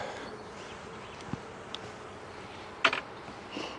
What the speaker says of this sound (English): I'll just shake the bees off